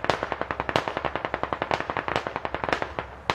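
Automatic gunfire fires close by in the military shooter game Squad, a rapid unbroken string of sharp, loud shots with a few heavier bursts mixed in.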